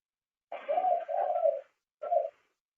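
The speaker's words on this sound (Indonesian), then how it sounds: "Burungnya siapa itu?" A pigeon or dove coos close by during an online meeting: two soft, hollow, run-together notes, a short pause, then a third brief coo, alone against silence.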